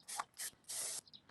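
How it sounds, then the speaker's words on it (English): QD electronic cleaner hisses from an aerosol can in several short bursts of spray, each under a second, into a wiring box on a 2021 KZ Escape E17 trailer, close and fairly quiet. "I'm going to spray in some QD electronic cleaner"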